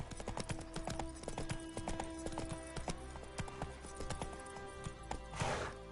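A horse's hooves clip-clop in quick repeated beats in the Witcher 3: Wild Hunt video game, accompanied by faint harness jingles and a brief whoosh near the end.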